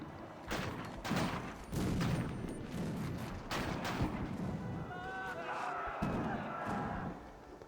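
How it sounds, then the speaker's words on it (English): Volleys of gunfire from a battle in the Victoria 3 strategy game, a run of sharp shots and thuds firing in bursts through the clip, with crowd-like noise and voices underneath. "we're still shooting over here"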